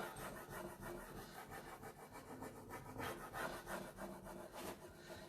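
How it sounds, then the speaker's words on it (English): Steady rhythmic rubbing of a transfer tool pressing a transfer onto a wooden children's growth chart, close and continuous scraping strokes with no voices. "then I'm going to rub it on with the transfer tool."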